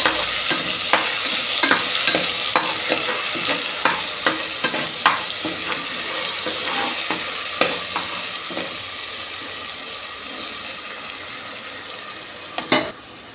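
Ginger garlic paste sautéing in a pan for a chicken gravy, with a steady low sizzle broken by repeated sharp spatula knocks and scrapes, close and alone without talk.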